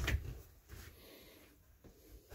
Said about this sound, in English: And your dresser drawers.